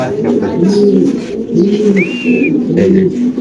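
Pigeons sold at a Bangladeshi bird market coo in close, repeated low rolling phrases, with a brief high chirp from another bird and background chatter from people nearby.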